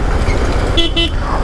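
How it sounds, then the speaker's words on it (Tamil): A Benelli Imperiale 400 BS6 motorcycle horn gives two short, close, buzzy beeps in quick succession over a low idling engine rumble. "இந்த ஹாரன் தான் எல்லா வண்டிக்கும் வரும், அதே மாதிரி ஹாரன் தான் கொடுத்துருக்காங்க"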